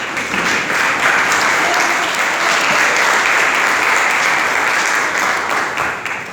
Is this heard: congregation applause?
yes